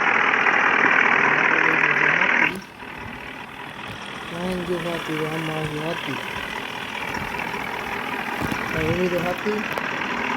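A tractor engine runs steadily at a farm before ploughing and paddy sowing, a continuous mechanical rumble that drops in level after a few seconds, with people talking over it.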